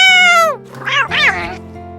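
A white cat meows as a storybook sound effect, first a long falling meow and then two shorter yowls, loud and close in a Korean folk tale narration.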